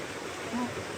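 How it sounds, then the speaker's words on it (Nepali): Clean running water flows steadily through Sisneri natural swimming pool, a soft, continuous, quiet stream of water heard nearby beneath a faint background murmur. "बगिराख्ने पानी रहेछ, त्यही भएर सफा रहेछ पानी चाहिँ एकदमै।"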